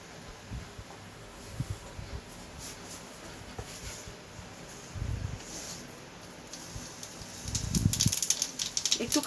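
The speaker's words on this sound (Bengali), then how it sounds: "এইটা আমি এই তেলের মধ্যে আগে একটু কালো জিরে ফোড়ন দেবো।" Black cumin seeds sizzle in hot oil, making a soft, steady crackling hiss with scattered pops that swells louder toward the end.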